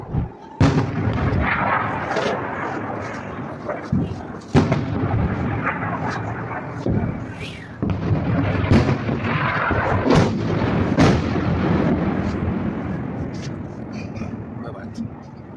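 Missile impacts and explosions in Nahariya, Israel, with repeated heavy booms and sharp blasts spread through the recording amid continuous rumbling noise. Someone talks excitedly over much of it.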